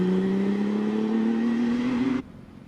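An OMS Hornet race car with a 599cc motorcycle engine screams up the Prescott hill climb course, its loud, steady note rising in pitch for about two seconds before cutting away abruptly.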